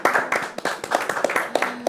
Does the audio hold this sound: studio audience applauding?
yes